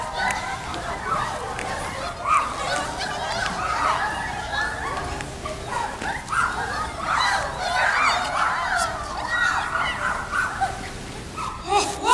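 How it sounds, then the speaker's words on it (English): A dog yips, whimpers and barks intermittently in short bursts amid people talking and children's voices, moderately close. "I'm sorry if my dog scared you."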